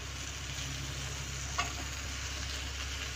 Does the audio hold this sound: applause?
no